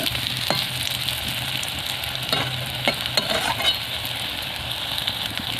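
Sesame fritters wrapped in ash gourd leaves frying in oil, a constant bubbling sizzle with a few sharp scrapes and clinks of a spatula against the pan, no talking.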